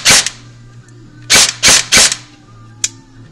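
An Echo1 airsoft AEG sniper rifle fires in semi-auto: four sharp, loud single shots at uneven intervals, each a crisp snap with a brief motor whir, followed by a lighter click.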